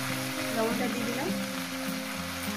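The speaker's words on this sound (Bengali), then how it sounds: "মাছের মাথাটা আমি দিয়ে দিলাম। এবার শুধু এটা ভাজবো।" A catla fish head fries with Malabar spinach in a pan under a soft, continuous sizzle that stays steady and mid-level, with a faint tonal hum underneath.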